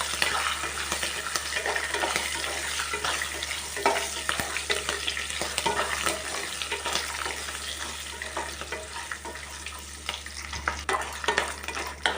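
Dry red chillies fry in hot tempering oil for lemon rice, giving a steady, close sizzle with the scrape and clatter of stirring running throughout.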